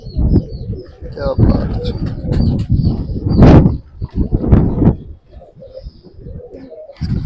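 Pigeons coo in a loft of kept birds, soft throaty calls mixed with wing flutters and bird chirps, while someone talks over them close by.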